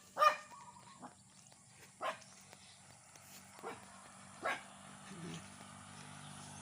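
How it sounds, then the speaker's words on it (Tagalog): A dog barks repeatedly somewhere in a rural village neighbourhood beside rice fields during a morning walk; four or five short, moderately distant barks come at irregular intervals over a steady quiet background. "The dog is barking."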